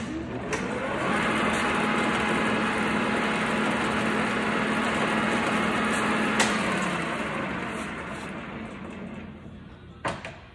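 A 21-inch Cincinnati Bickford Model 1L single spindle drill press spins up to high speed, a loud steady mechanical whir with a rising tone that holds, then slowly winds down, with a sharp click near the end.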